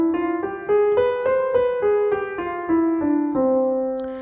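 A major scale with a flattened sixth played note by note, seven steady rising tones with bright harmonics, each attacked cleanly in an even rhythm and ending on a held top note, with no talking.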